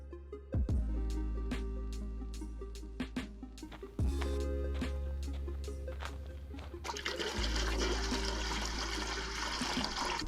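Water pours from a tap or spout into a large metal pot set up for a backwoods crawfish boil, a steady gushing stream with knocks and clatter, growing broader and noisier near the end.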